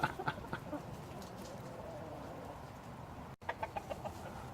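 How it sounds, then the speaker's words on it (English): Hens cluck softly in short bursts outdoors, with a steady low background hiss and a brief dropout near the end. "They look like happy chickens."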